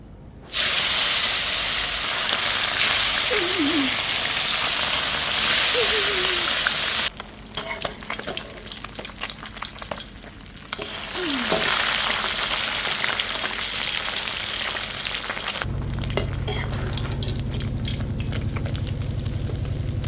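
Fish, pla takok, frying in a pan of hot oil: a loud, dense, hissing sizzle that fills the whole stretch, easing briefly midway and then returning, with occasional spatula scrapes.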